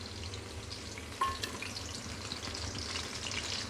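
Onion and finely chopped red tomatoes fry in a pan with a steady, soft sizzle throughout, joined by one brief clink near the middle and no talking.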